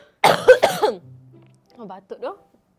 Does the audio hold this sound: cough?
yes